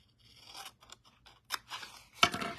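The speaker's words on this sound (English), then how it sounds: "the bottom here, I'm just going to snip to the score line" Scissors make a few quick, close snips through paper while cutting a pouch bottom to the score line in a card-making kit, with soft rustling between cuts.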